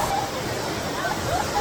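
A waterfall on the Road to Hana in Hawaii roars as a steady broadband wash, with people talking nearby.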